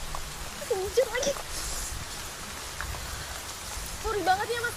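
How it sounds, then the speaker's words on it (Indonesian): Rain falling steadily as a dense hiss of drops on surfaces, moderately loud and unbroken, with a couple of short voiced or animal-like calls rising briefly above it. "Hujan lagi."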